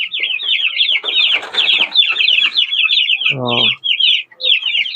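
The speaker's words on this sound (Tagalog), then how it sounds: "Ito mga sisiw ko, malalaki na." Young backyard chickens chirp and peep continuously at close range, with a short clucking call partway through and a brief voice.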